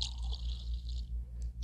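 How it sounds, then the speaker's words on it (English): Tea pours into a mug in a short, steady liquid stream close by, fading after about a second, with a low background hum and no talking. "So I'm just pouring some tea."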